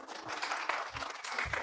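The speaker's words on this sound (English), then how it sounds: "Let's give them all a big round of applause" An audience at a meetup gives the organizing team a brief round of applause, a faint, dense patter of many hands clapping at once, with no talking over it.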